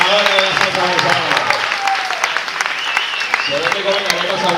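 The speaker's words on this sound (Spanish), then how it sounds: "fuertes aplausos que se oiga para el mundo" Audience applause at a salsa cabaret show, dense clapping from a crowd mixed with a voice and music tones over it.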